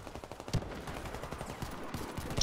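Rapid gunfire in a shooter video game set around Chernobyl, a dense, continuous rattle of shots with a few louder bangs standing out, played without any talk.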